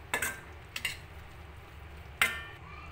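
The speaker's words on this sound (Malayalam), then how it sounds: "ഇതിലേക്ക് അരപ്പ് ചേർത്ത് കൊടുക്കാം. ഇതിലേക്ക് ആവശ്യത്തിന് ഉപ്പിട്ട് കൊടുക്കാം. ഒന്ന് മിക്സ് ചെയ്ത് കൊടുക്കാം." A spoon stirs cooked apple with ground coconut paste and salt in a pan, giving a few short, close scraping clicks against the metal over a quiet background.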